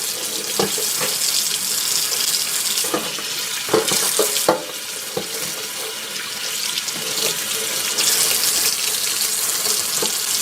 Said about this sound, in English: It's easier if you use a water hose to clean it out than a sink.